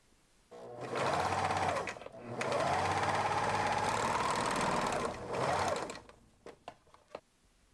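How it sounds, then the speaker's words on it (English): A sewing machine overlocks or zigzags the raw edges of a dress bust cup, running in several long steady whirring bursts with brief pauses, then a few short clicks at the end. "overlock or zigzag the raw edges of your bust cup"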